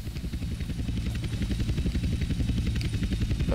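Helicopters fly close by in GTA San Andreas, with rapid, loud rotor chopping that thumps rhythmically and continuously as the aircraft pass overhead.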